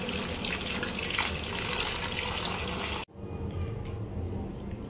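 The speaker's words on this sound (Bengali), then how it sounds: "তো পানি ছেড়ে রাখলাম।" Tap water runs steadily to rinse grapes, a full splashing hiss that cuts off abruptly at about three seconds, leaving a quieter room.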